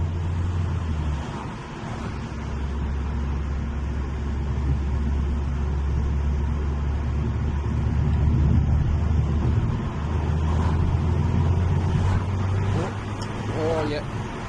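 An Alfa Romeo MiTo Quadrifoglio Verde engine idles and revs through a twin-pipe exhaust with a deep, throaty rumble, holding steady before a couple of swells in pitch, close by.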